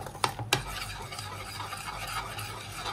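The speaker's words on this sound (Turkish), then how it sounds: "Ocağa da taze fasulye koydum. Pişiyor." Fresh green beans cooking in a pot on the stovetop, a soft steady sizzle and bubbling hiss, with two sharp clinks near the start.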